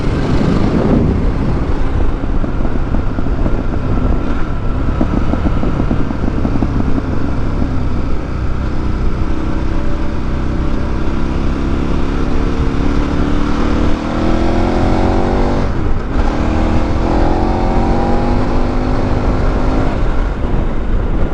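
KTM 1190 Adventure motorcycle engine on a test ride over bumpy roads, a steady loud drone with wind rush, rising and falling in pitch as it accelerates and shifts, heard alone without talk.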